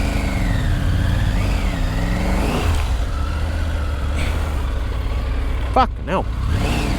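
A Triumph Tiger 900 Rally Pro adventure motorcycle engine drones and revs steadily while climbing a slippery hill track, a continuous mid-pitched engine note with a brief spoken exclamation over it.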